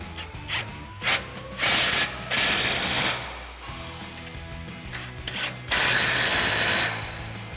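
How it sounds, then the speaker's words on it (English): Impact wrench with an 18mm socket tightening front bumper bolts on a 2021-2023 Ford F-150, several loud rattling bursts of hammering separated by brief pauses, close and without talk. "So we've got our 18mm socket on our impact and we'll tighten these down."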